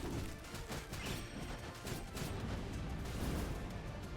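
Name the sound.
explosion in the video game Skul: The Hero Slayer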